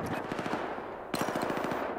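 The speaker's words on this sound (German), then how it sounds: "Ja, ich schieß gegen eine Wand, Alter." Automatic weapon fire in Battlefield 4 rattles out in two rapid bursts, the second starting just after the first ends, each a fast, evenly spaced string of close shots.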